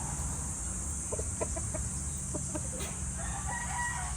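A Python gray gamecock rooster in a conditioning area, giving short crowing and clucking calls over a steady, loud background hum.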